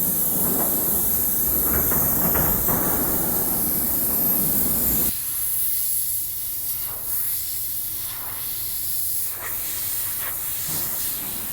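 An airbrush hisses steadily while laying down a light, pale base coat of makeup on skin and hair, the spray loud and continuous at first, then softer with short bursts.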